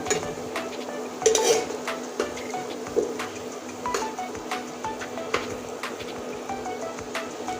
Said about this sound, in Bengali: একদম লাল করে ভেজে নেব